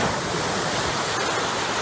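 A tipping flushing trough in a storm overflow tank pours its water out, giving a steady, dense rush of gushing water that holds evenly throughout.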